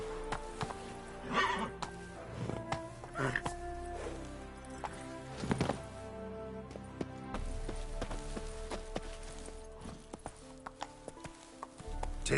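A horse in the video game The Witcher 3 neighs loudly several times, its hooves clip-clopping in a galloping rhythm beneath the calls, fairly close and continuous.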